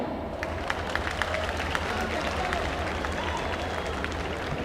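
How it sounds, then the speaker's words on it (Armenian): Audience applause at a Yerevan State University ceremony honouring and swearing in first-year students, a dense steady clapping wash from a large crowd filling the whole stretch, with crowd murmur beneath. "Ծափահարություններով ճանապարհ ենք մեր առաջին կուրսեցիներին"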